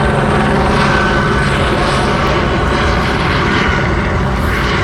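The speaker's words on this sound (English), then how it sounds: "That was a helicopter." A helicopter flies overhead, a loud, continuous rotor and engine roar that fills the whole moment, with no voices.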